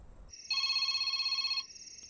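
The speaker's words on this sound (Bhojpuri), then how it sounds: "फोन तोरे बाप के फोन है, उठाई ना" A telephone gives one steady electronic ring lasting about a second, close and clear over a quiet room, with no talking.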